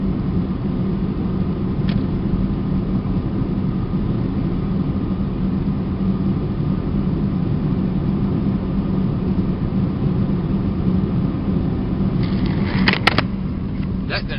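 A 1996 Honda Civic DX on a night drive, heard from inside as a steady, unbroken road and engine rumble with a few faint clicks near the end.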